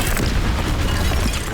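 Spell explosions from Bombarda and Confringo in the Hogwarts Legacy video game, a dense run of deep booming blasts rumbling continuously and loudly throughout.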